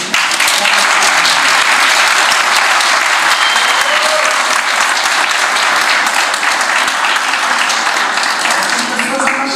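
An audience at a Brazilian cinema medal ceremony applauds in tribute to Ricardo Miranda, a loud, dense, sustained roar of clapping from a large crowd, close and unbroken for the whole stretch.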